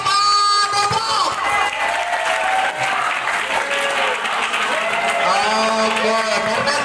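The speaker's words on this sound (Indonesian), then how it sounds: "tepuk tangan buat SMA Depok" A loud crowd applauds for a high school group at an outing event in Depok, with dense clapping, cheering and children's voices shouting throughout, close and energetic.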